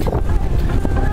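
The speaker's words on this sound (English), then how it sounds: "It's very windy." Gusty wind by the sea at Loutraki, Greece, roars as a loud, rumbling buffet against the microphone, continuous through the short stretch.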